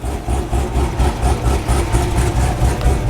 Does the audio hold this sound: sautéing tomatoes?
no